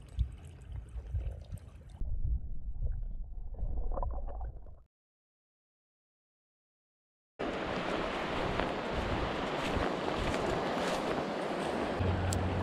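Gusty wind buffets the open air beside a trout creek on a cold, blustery day, a loud steady roar that drops out to silence midway and then returns strongly.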